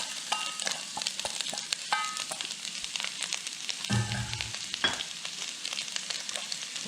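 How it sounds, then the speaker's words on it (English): Onions sizzling in heated oil in a brazier, a close, continuous crackling hiss with occasional louder spits and a brief stir midway. "so I'm going to go ahead and add the onions."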